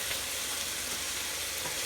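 Teriyaki sauce sizzles steadily as it cooks down in a hot pan, an even, close crackling hiss with no pauses and no voices.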